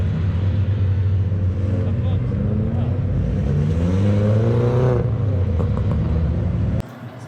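BMW 116i race cars on the circuit at Brands Hatch, a sustained loud engine drone with rising revs and pitch sweeps as the pack pulls past, a commentator talking over it, then cutting out near the end.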